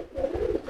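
A pigeon coos softly in a loft, a short run of low, rolling burbling notes, close and alone.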